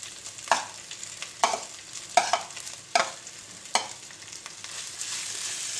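Crushed minced meat for Kerala-style idiyirachi fries in a pan under a steady sizzle, stirred in five evenly spaced scraping strokes that each bring a fresh hiss, close and unaccompanied by talk.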